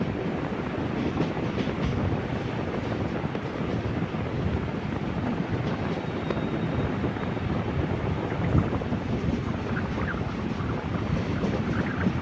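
Punalur–Nagercoil passenger train slowing as it passes a small station without stopping, a steady loud rumble of wheels and carriages with wind buffeting, heard from on board with no talk.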